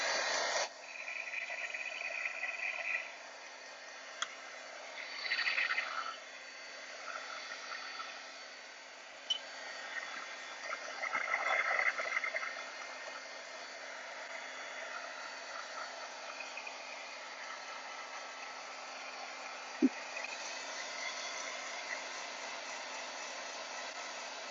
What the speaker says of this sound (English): Let me take the heat gun and make some noise